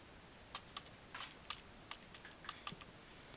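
Computer keyboard typing on an Ubuntu 16.04 desktop, a quiet, sparse run of about a dozen light key clicks in irregular rhythm, alone with no talk.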